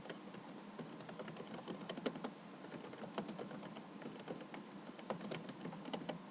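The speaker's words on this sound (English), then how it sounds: "So now I'm going to type in some code." Code is typed on a computer keyboard, a faint steady patter of quick key clicks with small irregular bursts and pauses, heard close in a quiet room.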